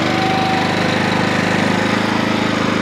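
A fertilizer spreader machine runs steadily during a calibration test, a loud close engine with a rapid pulsing chug and no break throughout.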